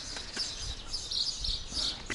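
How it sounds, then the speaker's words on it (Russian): Many birds chirp around a fortress in Alanya, Turkey, with scattered high calls over a steady outdoor hum, fairly faint and continuous, no voices. "птиц, очень много птиц и тишина невероятная"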